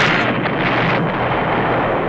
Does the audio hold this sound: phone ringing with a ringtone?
no